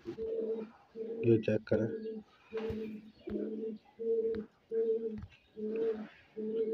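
Teddy Golden pigeons in a breeding setup in Lahore coo in a steady series of repeated low phrases, close and clear, with someone speaking briefly over them.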